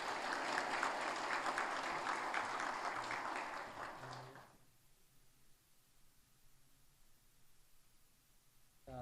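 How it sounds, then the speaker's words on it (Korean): Church congregation applauding during a Sunday service, a soft, even patter of many hands for about four seconds before it stops abruptly, leaving quiet room hiss. "박수로 축하하겠습니다."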